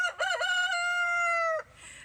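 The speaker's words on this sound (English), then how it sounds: "That obviously is the rooster crowing, letting us know he's king of the roost." A single loud, close rooster crow, rising sharply and then holding a long, strained note before cutting off, followed by faint rustling.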